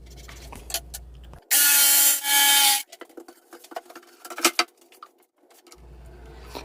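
A jigsaw cuts notches into tape-covered plywood in two loud, buzzing bursts of about a second each, set between quieter clatter and handling noises.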